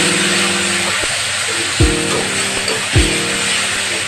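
Pumpkin frying in a pan with turmeric, chili powder and a little sugar, giving a loud continuous sizzle with two sharp stir clatters and no talking.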